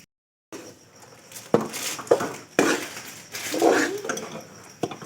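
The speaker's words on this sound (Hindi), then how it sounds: "अब हम डालेंगे 1 किलो सूजी" Semolina poured into melted desi ghee in a pan for Punjabi panjiri, with scattered clinks of utensil against pan, soft pouring rustle and a few sharp knocks over a quiet kitchen background.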